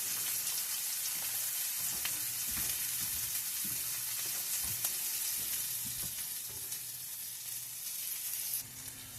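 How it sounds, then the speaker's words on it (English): Six cut-up little smokies sausages fry in an iron skillet with a loud, dense, continuous sizzle and crackle. Occasional soft scrapes and stirring knocks sound under it, and no one speaks. "Let's fry our little smokies."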